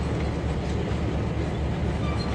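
Simulated freight train cars rolling slowly past a gantry in Trainz 2022, a steady dense low rumble with faint rail clatter, continuous and fairly loud throughout.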